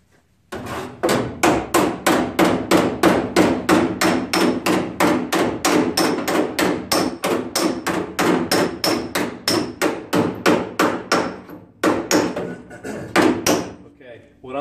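Hammer striking a factory-curled sheet metal edge flat on a 1968-72 GTO, Chevelle, LeMans or Malibu firewall, a rapid, steady run of loud, close metallic blows, roughly three per second, with a short pause before a few final strikes.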